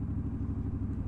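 Triumph-style Scrambler motorcycle engine on a mild-day ride, a steady low throbbing rumble with a rhythmic pulse, close and continuous for a brief moment.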